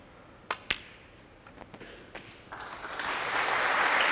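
Snooker crowd at the 2020 Welsh Open final, starting with a few isolated claps that build into full, swelling applause by the end.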